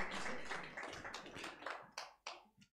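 Congregation applauding to encourage a young girl named Abigail in church, a burst of hand claps that thins into a few scattered, separate claps before fading out.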